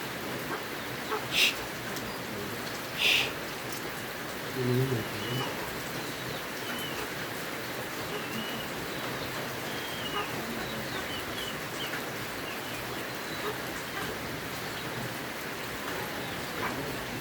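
Steady rain hisses evenly throughout, with a couple of brief faint bird calls and a soft thud or two over the wash.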